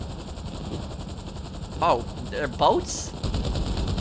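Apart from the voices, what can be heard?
gunfire from GTA 5 video game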